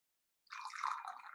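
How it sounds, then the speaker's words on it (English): Water pours off from a small tea vessel in a brief splashing trickle, about a second long, starting abruptly after silence and heard close up and alone. "I pour the water on, and I usually will just take a short breath in a moment, and then you pour it off"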